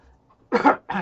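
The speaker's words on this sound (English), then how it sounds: "sorry about the coughing" Two quick, harsh coughs sound up close, one right after the other, following a brief quiet moment.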